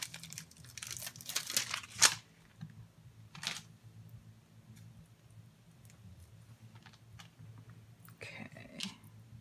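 Scissors fussy-cut around a stamped paper image with a greeting sentiment, giving quiet, close snips and paper rustles in short bursts separated by pauses.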